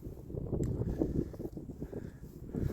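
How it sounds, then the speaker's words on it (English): Steady wind on a grassy Iron Age hillfort hilltop in North East Somerset buffets the microphone with continuous low rumbling gusts, fairly soft and alone, with no voices. "It's going to be a bit windy, guys."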